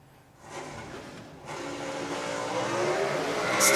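Drag racing car making a pass at Willowbank Raceway in Queensland, its roar building steadily from a quieter start into a loud, sustained run that stays strong to the end.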